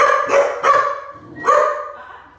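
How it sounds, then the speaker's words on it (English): Several dogs barking indoors in a room, three loud, close barks in quick succession with a short gap before the last, no talking. "We have other dogs in the room. So just telling them to just deter the barking."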